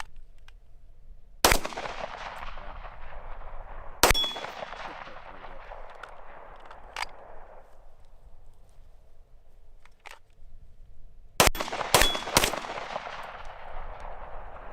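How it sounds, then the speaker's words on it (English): Shots from a gun aimed with a UUQ Eagle C28 red dot sight ring out one at a time, each sharp crack trailing into a long echoing decay, with a quick cluster of three near the end. "Got a couple shots there."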